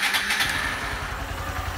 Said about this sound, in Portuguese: Vamos ver com a moto em funcionamento